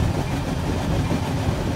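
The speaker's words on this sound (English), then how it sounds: "And the train is still going to be speeding a little bit itself" A train rolls steadily along rails on a route from the B&LC Horsethief Rail Yard in RO-Scale, a continuous loud low rumble with clattering wheel noise and no pauses.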